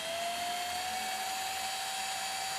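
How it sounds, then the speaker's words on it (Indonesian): A 12-volt cordless battery drill runs at full speed, spinning a homemade mini generator built from scrap parts, producing a steady, continuous high-pitched whine with a constant tone and no pauses. "Dengan kecepatan bor baterai maksimal. Bor baterai 12 volt maksimal."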